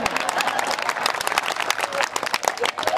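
An audience at a comedy poetry show claps in a dense, sustained burst of applause that stays loud throughout, with some crowd murmur mixed in.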